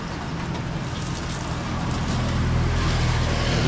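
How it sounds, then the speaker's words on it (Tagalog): Rain falls in a steady, dense wash of noise that stays loud and even throughout and thickens slightly toward the end, with no one speaking. "Ayan, ulan naman siya ate."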